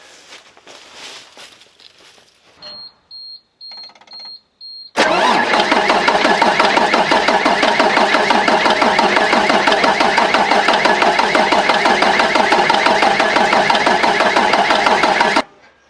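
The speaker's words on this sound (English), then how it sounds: "I'm gonna try turning the engine over a couple times" A DT466E diesel engine in a school bus cranks over with a loud, rhythmic chugging for about ten seconds, close by, after a few short clicks and quiet shuffling.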